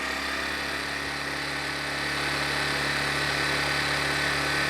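A Harbor Freight Predator 1400 inverter generator's small engine runs at a constant, steady pitch, a loud continuous hum with no breaks and no voices.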